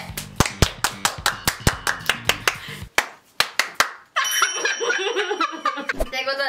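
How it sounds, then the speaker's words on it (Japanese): Rhythmic hand clapping at a casual gathering of women, a rapid steady run of sharp close claps with a brief pause, followed by laughter and chatter. "拍手。"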